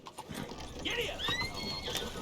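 A horse galloping in the video game Red Dead Redemption 2: a steady flurry of hoofbeats with a brief whinny-like cry near the middle, heard over ambient game sound.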